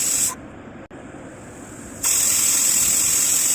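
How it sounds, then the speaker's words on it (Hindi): A pressure cooker on a kitchen stove lets out a loud, steady hissing whistle of steam that cuts off briefly, then resumes strongly and continues close by. "ये तीसरी सीटी हो रही है"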